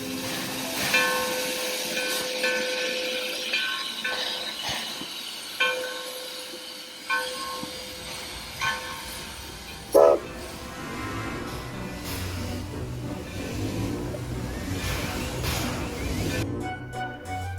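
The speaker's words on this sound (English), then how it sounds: "it is now time to get on board and ride the Yosemite Mountain Sugar Pine Railroad" A Yosemite Mountain Sugar Pine Railroad train rumbles and hisses as it rolls along, with clanking and a few sharp knocks, steady mechanical noise and some faint voices in the background.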